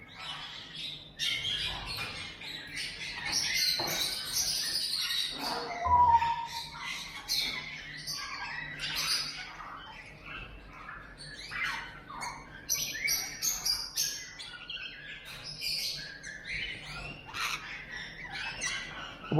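Parrots squawk and chirp at a bird market in Dubai, a mix of sharp, scattered calls over a quiet indoor hum, some near and some farther off, continuing throughout with no talk.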